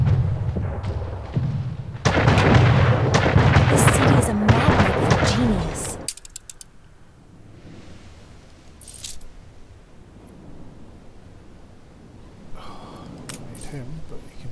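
Ship cannons fire during a major naval battle in the Anno 1800 strategy game, a dense cluster of booms and crackling blasts early on, then quieter scattered shots and ambience, with someone talking over parts of it.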